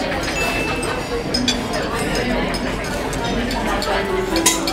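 Glasses clink in a toast at a dining table on a cruise ship, a few bright chimes scattered through the clip over cutlery and table clatter, with people talking throughout.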